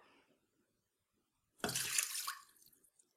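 Water poured into the bowl of a Moulinex Cuisine Companion food processor for focaccia dough, a short quiet splashing burst of just under a second after near silence, then a few trailing drips.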